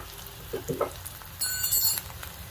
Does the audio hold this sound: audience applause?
no